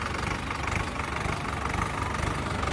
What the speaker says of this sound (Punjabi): ਟਰੈਕਟਰ ਆਵਾਜ਼ ਬੂਜ ਬਹੁਤ ਸੋਹਣੀ ਆ ਟਰੈਕਟਰ ਦੀ